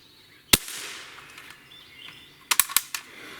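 Crosman Legacy 1000 ten-pump BB/pellet air rifle firing one sharp shot, then a quick cluster of sharper clicks and snaps a couple of seconds later, close and fairly quiet.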